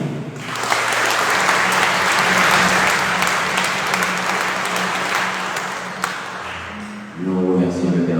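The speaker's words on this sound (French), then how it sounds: "Nous vous demandons de les applaudir." A congregation at Sunday Mass applauds the JMC choir in a loud, sustained round of clapping that fades after several seconds, and then a voice begins speaking.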